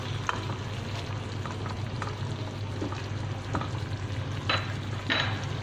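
Homemade pizza sauce simmering on low heat in a pan, a steady soft sizzle with occasional scraping stirs of a spoon, close and moderately quiet.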